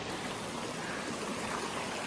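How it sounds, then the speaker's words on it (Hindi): Heavy rain falls near a small hillside temple in Hamirpur, heard as a steady, dense, close hiss of pouring water with no voices. "बहुत बारिश हो रही है,"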